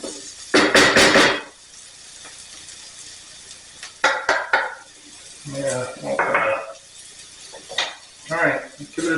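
Garlic and potatoes browning in a frying pan, stirred with a wooden spoon: loud, irregular bursts of scraping and clattering against the pan, separated by quieter stretches of low sizzle.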